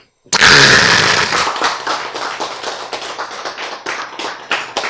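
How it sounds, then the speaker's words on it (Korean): A congregation at a church lecture breaks into sudden applause, a dense burst of many clapping hands that starts loud and thins into scattered claps over several seconds. "박수!"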